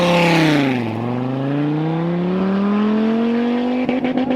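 A Lamborghini Aventador engine revs hard and sweeps through gears as it drives fast on a race track, one continuous loud roar that dips at a shift and then climbs steadily. There is no talk.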